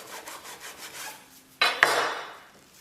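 A knife saws back and forth through a plastic-wrapped sushi roll in soft, rapid strokes, then two sharper cuts land near the end before the sound fades.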